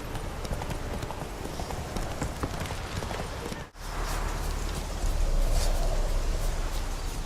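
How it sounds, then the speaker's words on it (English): Hooves of Roach, Geralt's horse in The Witcher 3: Wild Hunt, clip-clop in a steady riding rhythm over ambient game background, briefly dropping out mid-clip before resuming. "Hop on Roach. Begin our journey there."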